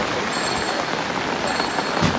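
Heavy rain pours down in Chittagong during severe flooding, a loud, dense and unbroken hiss close to the listener.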